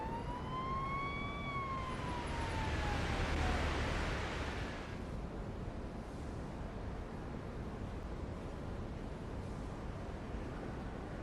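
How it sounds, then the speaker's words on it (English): Police siren from a police patrol video game, a rising and falling wail that sweeps clearly for the first few seconds, then gives way to a steady broadband hiss with no talk. "I heard the siren."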